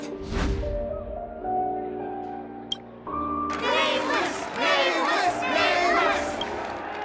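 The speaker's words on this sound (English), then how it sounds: "Let us gift our applause and cheers to these brave and dauntless nameless." A video game crowd breaks into cheering and shouts after a music cue, rising voices swelling and layering together in a loud, festive burst.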